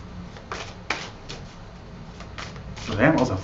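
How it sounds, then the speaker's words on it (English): A fast riffle of a tarot card deck being shuffled, soft flicking bursts building to a louder rustle at the end, with a voice talking faintly underneath. "Damn, that was a fast shuffle."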